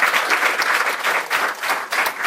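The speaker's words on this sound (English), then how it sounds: "please give a big clap to him" Lecture audience applauding loudly and steadily for a student's answer, a dense, continuous clapping throughout with no speech.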